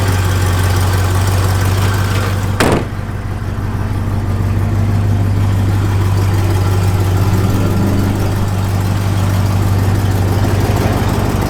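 A 1965 Chevrolet Corvette Convertible engine idles with a steady, deep, loud rumble, broken by one sharp click partway through.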